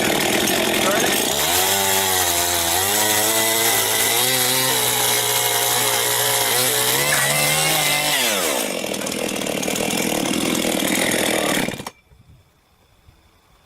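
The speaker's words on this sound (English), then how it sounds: "good chainsaw, good sharp, cut through this like butter. Start it." A sharpened chainsaw fitted with a freshly tightened chain starts up and bites through wood, its loud engine whine climbing and dropping through a steady cut for about twelve seconds before cutting off abruptly.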